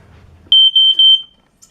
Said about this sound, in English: That's the real fire alarm.